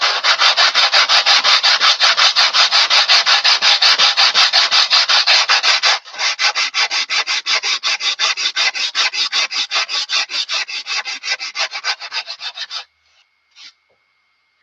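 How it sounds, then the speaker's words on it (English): Steady rhythmic rasping of covering being stripped from a Papaco 60 trainer model plane, loud and close, with fast repeated strokes that thin out and stop near the end. "Tom is stripping down his Papaco 60 trainer"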